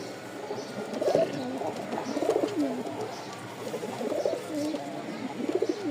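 Rajshahi giribaz pigeons, flying-breed birds, coo in a steady series of soft, rounded calls close by, with low chatter and movement in the background.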